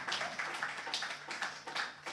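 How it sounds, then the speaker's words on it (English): A club audience at a Camden comedy night gives a quiet, fairly distant round of applause, the clapping rising and falling in uneven bursts. "Give him a big round of applause."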